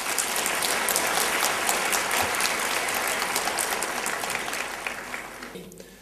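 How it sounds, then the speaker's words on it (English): A debate audience applauds warmly as a speaker is introduced, a dense sustained clapping from a full hall that holds steady and then thins and fades toward the end. "let's give a warm round of applause to Yusuf Ismail"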